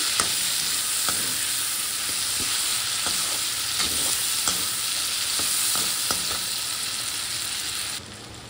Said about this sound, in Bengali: এবার এর মধ্যে দিয়ে দিচ্ছি আমি আগে থেকে কুচানো পেঁয়াজ আর রসুন।